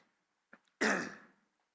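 Throat clearing followed by a cough from one person, a short soft catch then a loud rasping burst fading over about half a second, close to the mic with no talk.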